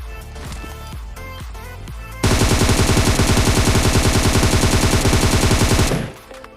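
PUBG Mobile gameplay in a solo versus squad match. A few scattered shots lead into a loud, sustained burst of rapid automatic gunfire lasting several seconds, which then cuts off.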